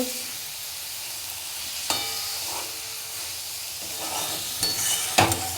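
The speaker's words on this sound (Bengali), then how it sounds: "তিন পিস মাছই দিয়ে দিলাম এবারে একটু নাড়াচাড়া করে দেবো" Three pieces of fish sizzle steadily in a hot pan for a fish curry, with a few sharp utensil scrapes and clinks as they are turned and stirred.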